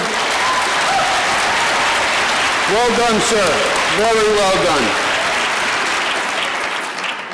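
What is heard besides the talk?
applause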